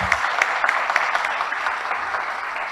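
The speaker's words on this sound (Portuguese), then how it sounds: "Pode aplaudir," An audience at a union conference applauds, with steady dense clapping and a few sharper claps standing out, moderately loud and without voices.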